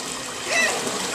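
A child swims in water, splashing briefly and softly at close range amid a continuous wash of rippling, trickling water.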